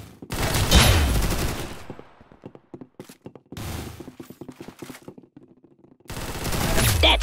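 Rapid gunfire bursts from the Roblox shooter game Arsenal, played on mobile, come in loud sustained volleys at the start and end with a quieter run of single shots in between.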